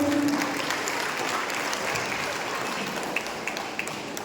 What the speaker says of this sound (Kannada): ಜೋರಾದ ಚಪ್ಪಾಳೆ ಮತ್ತೊಮ್ಮೆ.